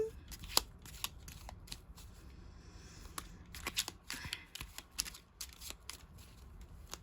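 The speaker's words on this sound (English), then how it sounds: "I'm just shuffling these cards, trying to draw on the Spirit" Tarot cards being shuffled by hand, soft quick riffles and slaps in a quiet room, coming in short irregular bursts at low volume.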